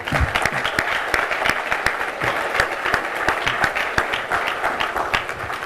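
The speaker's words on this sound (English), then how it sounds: "Please join me in giving them a round of applause" A conference audience applauds steadily and loudly, many hands clapping together in a dense, sustained burst that holds throughout.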